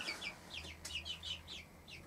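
A Marans mother hen clucks softly near her four-week-old chicks, giving a rapid run of short, quiet clucks close by against a low background hum.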